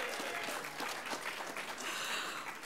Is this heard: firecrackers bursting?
no